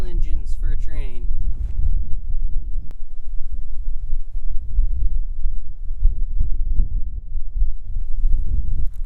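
Strong, steady wind gusts buffeting the microphone at a mountain railroad ghost town near Soldier Summit, a dense low roar filling the whole stretch, with a brief voice at the start.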